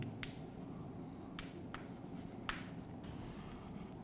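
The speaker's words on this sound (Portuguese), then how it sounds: "vamos começar a escrever aqui" Marker or chalk writing on a board during a geometry lesson, soft scratchy strokes with a few sharp taps, quiet and close over a low steady room hum, no talking.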